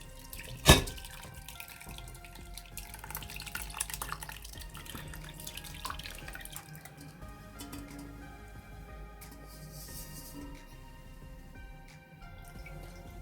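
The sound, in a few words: plum sharbat poured through a strainer into a bowl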